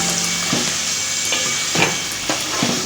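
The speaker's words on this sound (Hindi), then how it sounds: "अब ये जा रहा है इसमें साग।" Mustard greens hit a hot pan of oil with green chilies and salt, giving a loud, steady sizzle broken by scraping stirs of a spoon against the pan.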